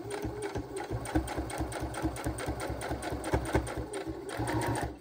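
A sewing machine stitches fabric scraps together for a scrappy heart pillow, running at a steady rapid mechanical chatter, close and continuous for the whole stretch with no speech.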